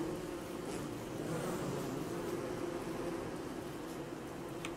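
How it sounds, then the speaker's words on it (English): Killer bees in the game Don't Starve, a continuous droning buzz at low level, steady throughout with no talk. "And of course there are killer bees as usual."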